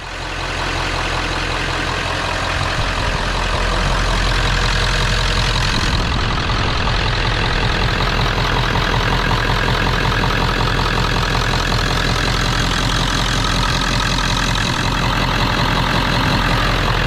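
A Ford 7.3 Powerstroke diesel truck engine idles steadily and loudly up close, a continuous low rumbling chug with no voices.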